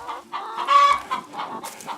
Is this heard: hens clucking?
yes